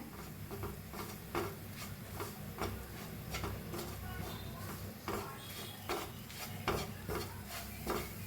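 Masala and gram flour roasting in a pan for a crispy potato and okra dish, with repeated light scraping and tapping of a spoon against the pan over a steady low hum.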